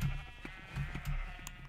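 Sheep bleating in a Minecraft minigame, several short bleats in quick succession, fairly faint over game background noise, with no talking.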